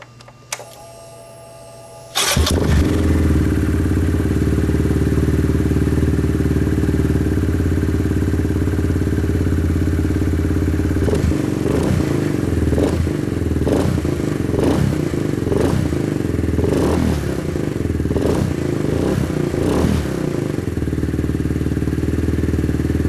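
A Kawasaki Z125 Pro motorcycle engine with a see-through camshaft cover starts after a brief faint lead-in, then runs at a steady, close idle. Repeated short revs and mechanical clatter come through in the middle stretch. No voices.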